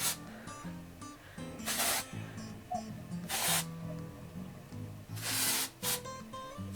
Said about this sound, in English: So I'm just gonna lift my hair up at the roots and just spray a little bit in.